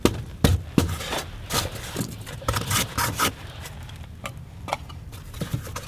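Foam insulation, likely ICF wall foam, sawn by hand to fit an electrical box, giving close, irregular rasping and scraping strokes with short gaps between them.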